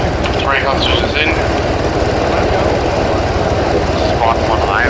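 Helicopter engine in the military video game Arma 3: a loud, steady rotor and turbine drone that holds constant throughout, with radio-style voices talking briefly over it.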